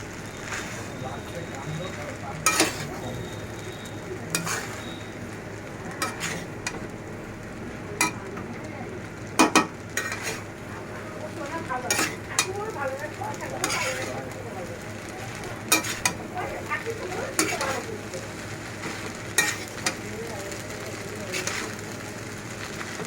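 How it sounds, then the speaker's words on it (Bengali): Pasta being stirred in a pan, heard as sharp scraping clicks of a spoon at irregular intervals over a faint, steady background hum, with a voice talking quietly at times. "তো আমি এবার পাস্তাটাকে ভালো করে নাড়িয়ে নিই, যাতে সব কিছু ভালোভাবে মিশে যায় পাস্তার মধ্যে।"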